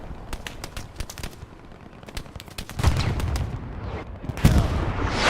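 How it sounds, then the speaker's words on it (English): Dense battlefield gunfire from the Hell Let Loose map Purple Heart Lane, with many sharp rifle and machine-gun cracks early on, then heavier rumbling booms of artillery fire swelling in the second half and peaking in a loud blast near the end. "Vanguard has shipped their artillery to the strong point."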